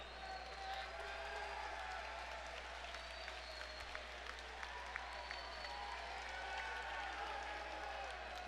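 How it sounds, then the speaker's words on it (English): An audience applauds at a caged mixed martial arts fight event. The clapping is steady and fairly faint, carries on throughout and sounds distant, with a low hum underneath. "a round of applause for one great matchup"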